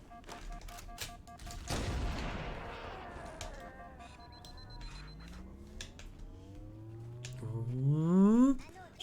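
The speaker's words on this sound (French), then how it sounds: "J'aime bien le bruit de l'armure qui remonte comme ça," Halo CE armor shield recharging in the video game, a rising electronic whine that sweeps upward and grows louder toward the end, following a burst of gunfire and mixed with other game effects.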